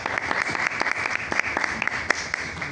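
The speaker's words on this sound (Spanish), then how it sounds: "por favor, un fuerte aplauso para el doctor" Audience applause in a veterinary lecture hall on nutritional support for cats and dogs, a dense, steady patter of many hands clapping at moderate loudness for the whole stretch, with no talking.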